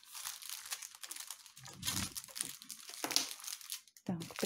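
A small plastic packet from a cross-stitch embroidery kit being pulled open, giving close crinkling and crunching rustles in uneven bursts, with a voice heard briefly over it.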